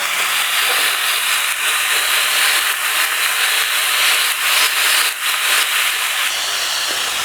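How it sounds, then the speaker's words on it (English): Beef for stroganoff, lightly dredged in flour, searing and browning in a pan, heard as a loud, continuous close hiss of hot fat that hardly varies throughout. "I'm just browning up the beef, letting it sit on one side and get a nice browning on it."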